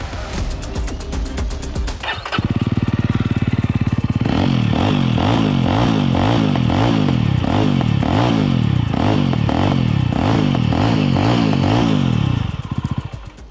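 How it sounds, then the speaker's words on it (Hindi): Mercedes-Benz GLS twin exhaust rumbling loud and close after a quieter opening, with a series of rhythmic revving pulses that rise and fall, deep and bassy, and no talking. "एंड एग्जॉस्ट नोट जो है वो भी इसका बदल गया है।"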